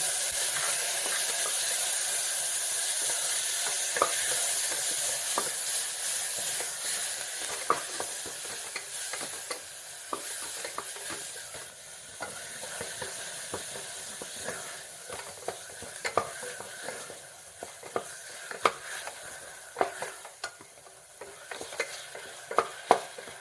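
Ginger, garlic and chopped tomato sauté in a pan for a one-pot dal rice, giving a continuous hissing sizzle with scattered scrapes and taps of a stirring spoon, close and unaccompanied by speech.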